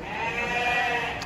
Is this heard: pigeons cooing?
no